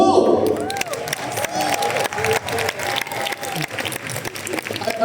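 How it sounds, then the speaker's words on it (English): Audience applause fills an event hall at a direct selling company gathering, dense steady clapping with some cheering and voices mixed in, loud and continuous throughout. "you need to clap louder, harder, because this clap is for yours."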